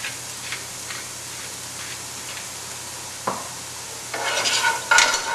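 Onions sautéing in a pan of rendered bacon fat, a soft steady sizzle broken by occasional stirring scrapes and a louder clatter of pan contact near the end.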